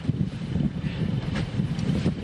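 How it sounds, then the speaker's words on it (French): Wind blows across a boat on a choppy sea, a constant low buffeting roar with irregular gusts. Faint hiss and splashing water sit underneath, close to the microphone. "il y a un peu de vent"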